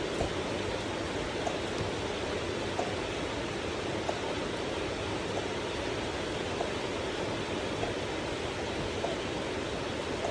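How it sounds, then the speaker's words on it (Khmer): Steady rain falls without a break, a dense even hiss of drops with no voices or other distinct sounds. "មេឃភ្លៀងរហូតចា"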